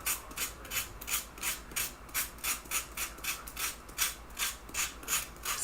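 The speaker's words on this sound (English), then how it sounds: "sand off the edges" Sandpaper rubs back and forth over the edges of paper sheet-music decorations, a close, rhythmic series of about a dozen rasping strokes at a steady pace.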